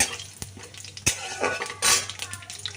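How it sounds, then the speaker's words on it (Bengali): Bay leaf and cumin seeds fry in hot oil while a spoon scrapes and clinks against the pan, with a few sharp metallic knocks over a steady crackle, close and moderately loud. "দিয়ে দিলাম সাদা জিরেটা তো এটাও একটু নাড়াচাড়া করে নিচ্ছি"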